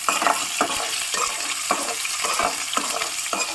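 Two green chilies, half an onion and two dried red chilies sauté in a pan, a steady sizzle broken by regular scraping strokes of a spoon being stirred, close and clear.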